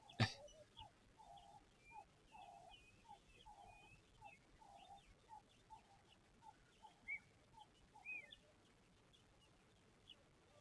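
A Klaas's cuckoo's call repeats steadily in the background at a waterhole along a river, a series of soft whistled notes at an even pace, faint and distant, with no voices.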